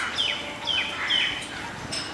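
Repeated bird calls, likely a koel, sound as three short bright chirping phrases spaced about half a second apart, moderately near, with no talk over them.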